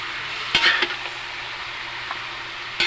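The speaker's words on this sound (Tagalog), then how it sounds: "Ito na yung ating karne na ilagay na natin sa may kawali." Meat fries in a kawali with garlic and onion, a soft steady sizzle broken by a few clattering stirs and scrapes near the start and a faint tap near the end.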